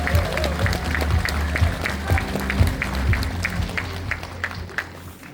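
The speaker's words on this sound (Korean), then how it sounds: "큰 박수로 환영해주시기 바랍니다." An audience in a university hall breaks into steady applause to welcome a speaker to the stage, a dense, continuous clapping heard from within the crowd.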